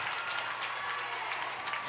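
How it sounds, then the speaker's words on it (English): A crowd at a high school volleyball game makes a steady wash of applause and cheering noise behind a server, moderately distant, with faint voices mixed in. "she's got a crowd that does a little sound effects behind her"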